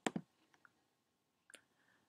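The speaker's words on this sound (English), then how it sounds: "click on the Save icon" Computer mouse clicks while saving a Microsoft Word document: a pair of quick sharp clicks, a faint tick, then another close click, all quiet and isolated.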